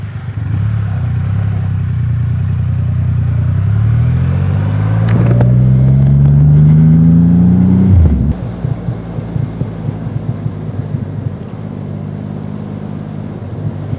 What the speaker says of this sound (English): So I'm running in my bike and there have been no issues at all.